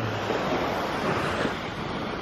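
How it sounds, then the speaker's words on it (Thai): Sea waves on Pattaya beach at high tide, a steady broadband wash of surf with some wind rumble, continuous and close throughout with no talking. "ฟิลตรงนี้ให้ดูทะเลนิดนึง"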